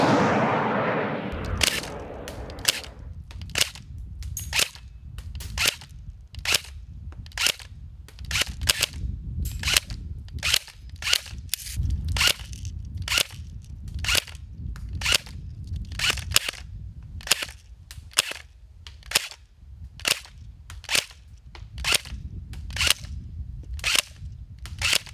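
Double Eagle Mini Shot airsoft gun firing, a long series of sharp, snappy pops at a steady pace of roughly one per second, close and loud with no talk.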